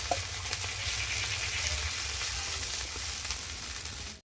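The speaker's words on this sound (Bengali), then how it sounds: "মাছ কিন্তু আমরা খুব কড়া করে ভাজবো না" Singi fish pieces fry lightly in hot oil with a constant, fairly soft crackling sizzle and occasional stirring, cutting off abruptly at the end.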